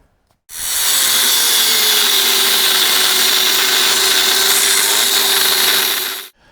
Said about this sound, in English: I just simply take off the bottom 1 inch of threads and then I'll cut through it like this.